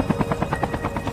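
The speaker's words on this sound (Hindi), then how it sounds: "चलिए उड़ाते हैं अब हेलीकॉप्टर को और नजारा देखा जाए" Helicopter in a Call of Duty battle royale match gives off a rapid rhythmic rotor thump, loud and close, with steady pulsing beats and no talk.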